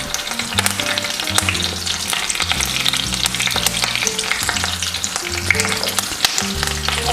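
Curry leaves fry in hot oil in a pan for paneer 65, giving a loud, continuous crackling sizzle with sharp pops throughout, and no talking.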